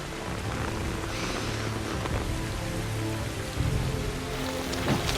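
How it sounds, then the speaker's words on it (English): Steady, heavy rain pours down in a Game of Thrones scene, a dense continuous hiss of drops striking surfaces with no voices, holding even and loud throughout. "And in the rain."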